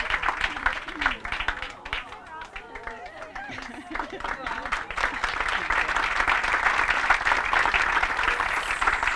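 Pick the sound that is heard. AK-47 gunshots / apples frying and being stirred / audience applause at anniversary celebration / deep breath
audience applause at anniversary celebration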